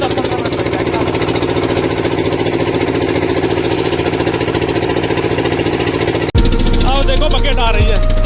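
A winch engine hauls a loaded trolley up from inside a cave, running as a loud, steady mid-pitched mechanical drone that cuts off abruptly into a different, heavier rumbling noise near the end.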